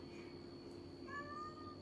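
A mother cat meowing for her kitten on a rainy night, one faint, drawn-out call rising near the end over a quiet, steady background hum.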